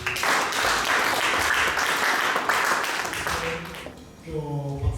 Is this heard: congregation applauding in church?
yes